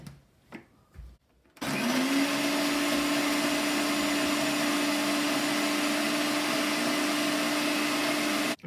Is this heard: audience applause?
no